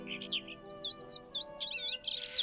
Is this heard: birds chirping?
yes